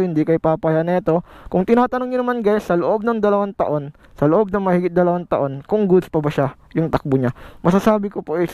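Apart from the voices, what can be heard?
No everyday noise stands out behind the speech.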